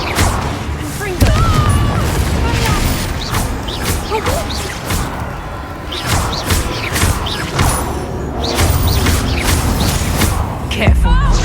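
Repeated booming blasts from the Confringo fire spell in Hogwarts Legacy, dense and loud with crashing thuds and game effects throughout, several impacts clustered close together over continuous background clatter.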